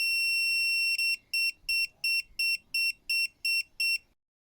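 INNOVV 3rd Eye blind spot detector on a motorcycle gives a long high electronic tone, then eight loud, evenly spaced beeps before falling silent.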